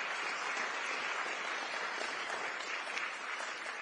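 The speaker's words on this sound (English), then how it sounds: "Give them a round of applause." A town hall audience in Burlington, Iowa breaks into applause, a dense and steady wash of many hands clapping at moderate volume throughout.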